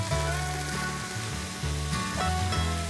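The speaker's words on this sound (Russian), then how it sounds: "Все это обжариваю при помешивании минут 5-7." Button mushrooms and finely chopped onion with chicken sizzle steadily in a frying pan while being stirred, a continuous loud crackling hiss with no talk.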